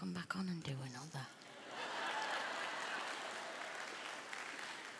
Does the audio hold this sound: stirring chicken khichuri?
no